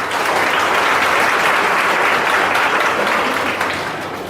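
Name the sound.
audience applauding to welcome guests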